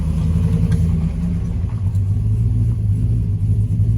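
Engine of a Chevrolet Silverado pickup fitted with a Cadillac conversion, running steadily with a loud, continuous low rumble from inside the cab and no speech over it.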